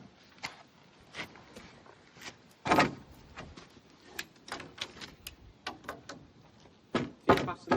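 A wooden mallet knocks a log cabin floor bearer into place, landing several sharp, close thuds at irregular intervals over low room noise while people talk.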